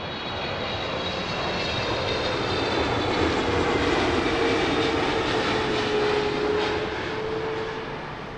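A Boeing 777 on landing approach at Heathrow, its engines a steady, broad roar that swells slightly and holds near and loud throughout, with no voices.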